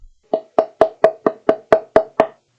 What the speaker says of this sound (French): Le mouton toque à la porte.